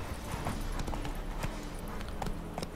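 Horse hooves clip-clop in a quick, steady rhythm as a horse is ridden in The Witcher video game, moderately loud and close, with no talking.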